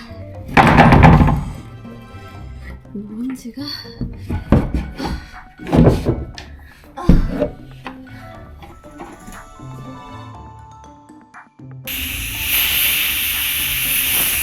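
A wooden bed frame is taken apart indoors, giving several heavy thunks and knocks spaced irregularly across the clip between quieter stretches, ending in a steady hissing noise.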